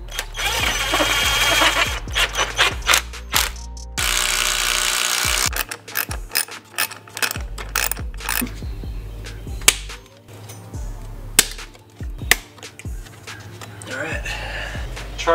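A power tool and a ratchet tighten the charge pipe clamps on a BMW F30 330i with a B48 engine, giving loud whirring bursts and rapid clicking under a steady mechanical hum, with sharp knocks scattered throughout.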